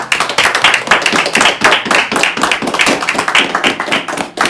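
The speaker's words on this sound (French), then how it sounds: "j'aimerais un tonnerre d'applaudissements du coup pour Bertrand Combe, Mathieu Jambou et Maxence Kovalik" A film crew claps on the set of a fight-scene making-of, a brisk, close burst of many hands clapping throughout with no talk.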